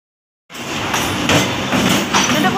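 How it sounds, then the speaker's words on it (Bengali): An empty train passes by on a rainy day, a broad steady rumble that sets in abruptly and holds close and loud with some clanking peaks. "পুরো ফাঁকা ট্রেন গেছে।"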